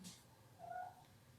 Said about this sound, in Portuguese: Um miado de gatinho.